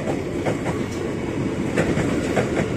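A ten-car Tokyo Metro 6121 train in KRL Commuter Line service rolls past a level crossing at night, its wheels clattering steadily and rhythmically over the rail joints at close range.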